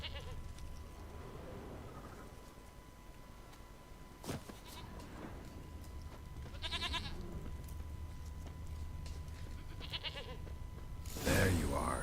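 A goat in The Witcher 3 bleats twice, several seconds apart, over a low outdoor game ambience, with a brief rustle near the end.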